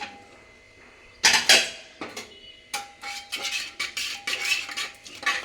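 A metal spatula scrapes and clinks against the inside of a pressure cooker while scooping soft cooked mung dal, with a scattered series of close scraping and tapping strokes and brief pauses between them.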